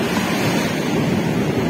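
Loud, steady rush of Black Sea surf on the shore at Anapa in November, with wind buffeting the microphone, a continuous roar without distinct breaks.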